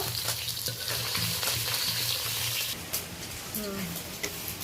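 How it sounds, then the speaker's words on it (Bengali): Pangas fish pieces fry in hot oil in a kadai, a dense, continuous sizzle with light spatula scrapes, and a voice faintly present underneath. "আমি মাছগুলো লালচে করে ভেজে নিলাম এইভাবে সব মাছগুলো আমি ভেজে নেব"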